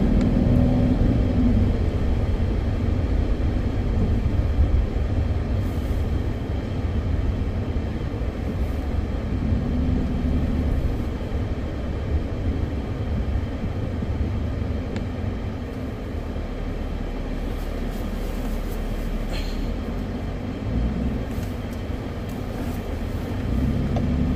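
Car driving past a Dollar Tree store, with a steady interior road rumble and engine drone throughout, fairly even and continuous, with no voices.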